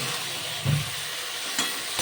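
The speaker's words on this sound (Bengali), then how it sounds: "খুব ভালো করে কষিয়ে নিচ্ছি শিম আলু দিয়ে।" Flat beans and potatoes being fried and stirred in a pan hiss softly and steadily, with a spatula scraping now and then and a few faint knocks against the pan, close up with no voices.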